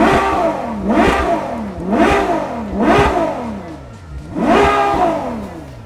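A V12 supercar engine, Ferrari 812 Superfast or Lamborghini Aventador S, revved four times to about 8,000 rpm, each rev rising sharply and falling back. The revs are loud and close, with no talking.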